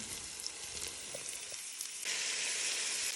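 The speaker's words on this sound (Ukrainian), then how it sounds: "я починаю обсмажувати цибулю" Onion and then sausage fry in a pot for Hungarian lecho, a steady dense crackling hiss that grows louder partway through, with faint stirring clicks.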